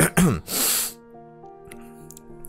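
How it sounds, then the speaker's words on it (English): A single harsh cough and throat-clearing burst up close, followed by a faint tonal hum and soft clicks. "Sometimes my coughs come in here from my sore throat."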